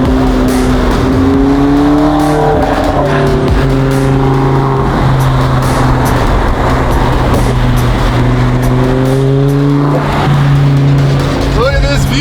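A supercar engine, loud and close, revs and pulls with rising and falling pitch sweeps as it accelerates, with occasional tyre noise and voices talking over it.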